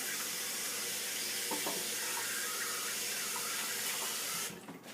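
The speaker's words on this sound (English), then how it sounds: "Let me just wash off my hands really quick." Hands being rinsed under a running kitchen tap while baking an apple recipe with flour, a steady close hiss of water splashing into the sink before it cuts off abruptly near the end.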